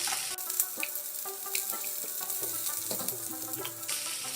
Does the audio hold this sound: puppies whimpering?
no